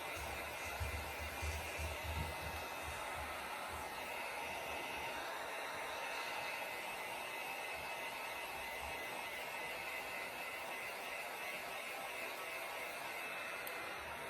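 A hair dryer blows on wet paint on a valentine craft, a steady close whooshing roar that holds at an even level throughout.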